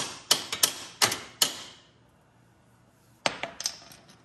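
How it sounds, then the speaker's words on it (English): Sharp metallic taps from a small hammer on a nut under a 2021 Polaris RZR Trail Ultimate, a quick cluster of strikes, a pause of quiet, then another burst of rapid taps. "Just my little hammer."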